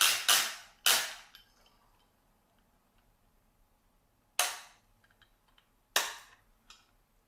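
A clamp being tightened onto a PS3 Slim flasher clip gives four sharp, loud snapping clicks, a close pair at the start and two more spaced apart later, with near silence between them.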